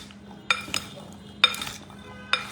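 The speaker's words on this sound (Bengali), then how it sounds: "এখন আমি এটা মিক্স করব। এটা ভালো হয় যদি 2টা চামচ দিয়ে মিক্স করা যায়।" Two spoons mix homemade spice in a bowl, giving four sharp metallic clinks spaced unevenly, with quieter scraping between them, close and clear.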